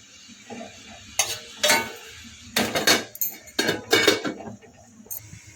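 Radish being stirred in a pan and then covered, several sharp metallic scrapes and clanks of utensil against the pan in bursts, ending with a lid clink, over a low background.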